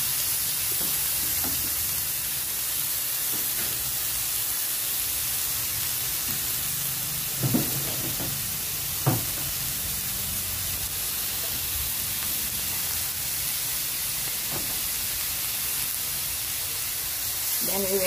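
Pork lean meat with turmeric frying in a pan, a steady loud hiss and sizzle throughout, with a few brief clinks of stirring utensils against the pan now and then.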